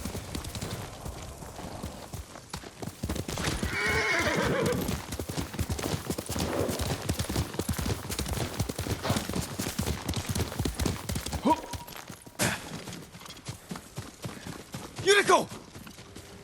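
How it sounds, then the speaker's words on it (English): Hooves of a horse in the samurai video game Ghost of Tsushima clip-clop at a steady walking rhythm, close and clear, with other game sounds and a brief voice mixed in. "Yuriko's horse. She can't be far."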